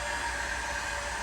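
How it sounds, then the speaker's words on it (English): A commercial hairdryer blows in one steady, loud, continuous whoosh of airflow with a constant motor hum and no voices over it. "This is a commercial hairdryer"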